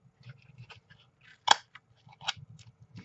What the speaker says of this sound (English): I think I'm just going to trim that off.